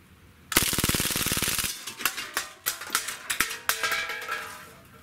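An UZI CO2 blowback BB submachine gun fires at cans: a loud, rapid full-auto burst, then a string of sharp single shots with snappy metallic cracks, close and alone.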